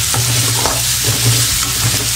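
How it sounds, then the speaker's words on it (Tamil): Ginger garlic paste and small onions sautéing in a pan for a Tamil pepper chicken fry, a steady loud sizzle with repeated scraping stir strokes throughout, no talking. "நல்லா பச்சை வாசனை போகிற அளவுக்கு நல்லா வதக்கிக்கணும்."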